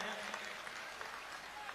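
Crowd applause at a night poetry gathering during a Sanatan padyatra, a steady dense wash of clapping from a large audience held throughout at a distant, even level.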